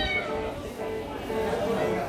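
Several cats meow over one another in a continuous, wavering chorus, fairly close and steady throughout.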